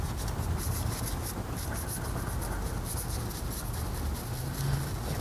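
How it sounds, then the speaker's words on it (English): A goat hair brush scrubs steadily over a foam-covered brake caliper on a Ford Mustang GT SN95 undercarriage, a continuous close rasping swish with no pauses. "that's going to allow me to scrub down the brake caliper."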